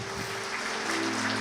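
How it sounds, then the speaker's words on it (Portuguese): A steady wash of dense applause from a large church congregation during a sermon, continuous and fairly distant, with no pauses. "nós aplaudimos o Teu nome"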